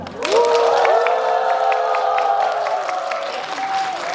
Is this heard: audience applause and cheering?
yes